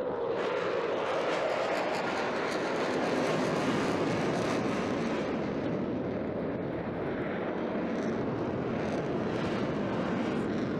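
A Eurofighter Typhoon jet with twin EJ200 turbofans roars through an airshow display, a loud continuous broadband engine blast that rumbles and shifts slightly in tone as it passes, with no voices.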